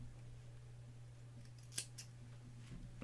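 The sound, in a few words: scissors snipping off the end of crochet yarn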